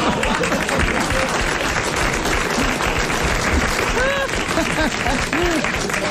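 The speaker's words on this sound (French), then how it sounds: "Merci pour ceux qui applaudissent les sœurs." An audience applauds the nuns at a comedy sketch, with sustained, thick clapping throughout and voices and cries rising over the applause.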